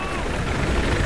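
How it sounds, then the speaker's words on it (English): A helicopter in the video game Battlefield 4 roars close by with a heavy, continuous rotor rumble, and a voice talks over it. "Chopper's onto me."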